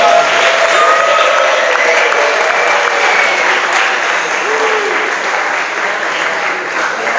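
An award-ceremony audience applauds loudly and continuously, dense clapping with scattered cheers and whistles that eases slightly toward the end.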